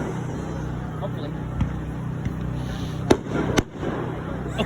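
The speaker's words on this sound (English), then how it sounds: "how many goddamn fireworks do they have? Whoa! That one went off a bit too low" Fireworks go off at a high school pep rally, with dull thuds and then two sharp, loud bangs in quick succession over a steady outdoor murmur, while people talk nearby.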